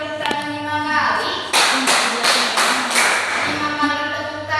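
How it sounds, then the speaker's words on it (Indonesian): A class of students in an Islamic school classroom claps hands five times in quick, sharp bursts, close by. A voice speaks before and around the claps. "Tepuk tangan 5 kali."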